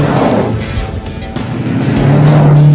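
A BMW M5 F10 sedan drives past with a loud, close engine note that swells toward the end, alone without speech.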